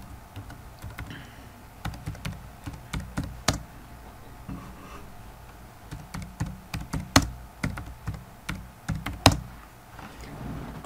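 Fingers type on a computer keyboard while text is entered in Google Docs, producing close, irregular clicking keystrokes that come in uneven bursts and grow busier toward the end, with no talking.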